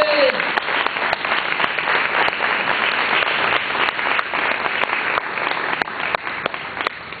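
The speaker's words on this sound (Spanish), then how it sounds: "Dale un fuerte aplauso, alábale." Loud, sustained applause from a church congregation during a Spanish-language Sunday service, dense clapping filling the room with a few sharper claps standing out and a voice faintly beneath.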